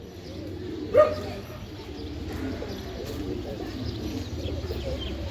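Giribaz pigeons give soft, low cooing amid steady room noise, with one brief sharp chirp near the start; nothing is loud.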